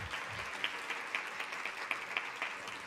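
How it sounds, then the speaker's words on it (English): Audience applause after an onstage conversation, steady crowd clapping that fills the room, moderately loud and sustained from start to finish. "how about another round of applause for a wonderful conversation?"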